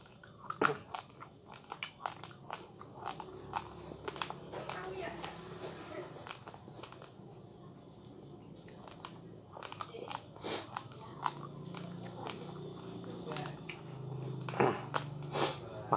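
Raw uncooked rice being bitten and chewed up close, with irregular sharp crunches and grainy grinding over a quiet background throughout, picking up toward the end.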